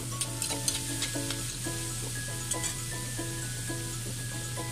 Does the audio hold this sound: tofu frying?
yes